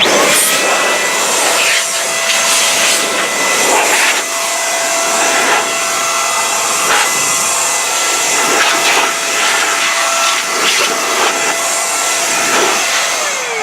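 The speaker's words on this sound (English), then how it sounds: "I'm going to blow out all those crevices so there's no dust and dirt in there" A loud, continuous electric blower roars with a steady high-pitched whine, its airflow hissing and fluttering as it is moved around blowing dust out of car interior crevices, with no talking.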